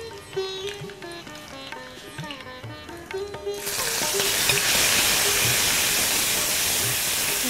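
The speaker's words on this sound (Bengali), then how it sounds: "এটা যখন সর্ষেটা ক্র্যাকেল করতে শুরু করবে তখন থোরটা এর মধ্যে দিয়ে দেবো।" Mustard seeds in hot oil, first faint popping and clatter under background tones, then a sudden loud, steady hissing crackle that continues to the end.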